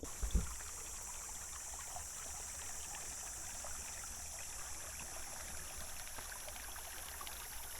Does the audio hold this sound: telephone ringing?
no